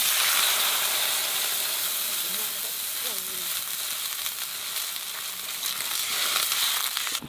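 Green chillies hit a hot pan with cumin and radhuni seeds, then water goes in, bringing a loud, close, hissing sizzle that dips slightly midway and swells again, with faint stirring scrapes and no talk.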